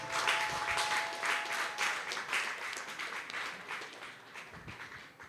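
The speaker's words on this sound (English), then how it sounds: "A round of applause, ladies and gentlemen" An audience at an HR panel event applauds a panelist, a steady wash of clapping that swells and slowly tapers, with no speech over it.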